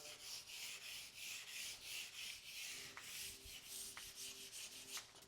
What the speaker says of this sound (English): Use the first sheet of sandpaper and sand the entire area.